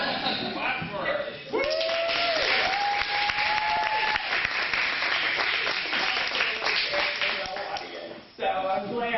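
Audience applause at a cinema screening with a director Q&A: dense, loud clapping from a crowd fills most of the stretch, with a voice heard over it early on before the applause fades near the end.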